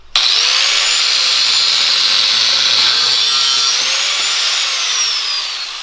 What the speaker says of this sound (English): Then we can drill our holes for our engine